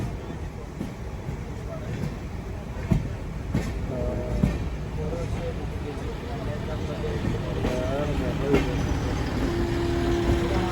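A goods train carrying trucks rolls past near the Mumbai line, a steady rumble with rhythmic clacks of wagons while voices talk over it.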